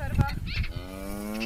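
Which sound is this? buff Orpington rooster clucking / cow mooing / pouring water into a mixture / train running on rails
cow mooing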